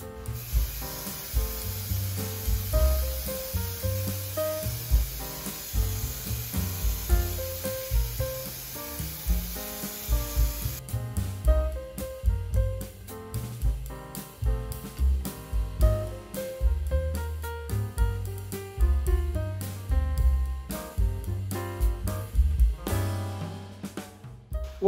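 A second coat of paint sprayed onto a 1934 Chevy hot rod cab, a steady close hiss of the spray gun lasting several seconds, then lighter rubbing and handling noises.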